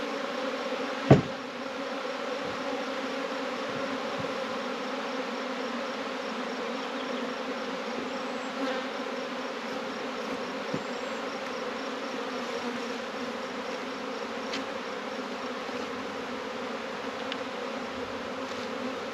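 A swarm of honeybees drones around a bait hive trap outdoors, a steady, close buzzing hum that carries on without pause, broken by one sharp knock near the start and a faint tap later.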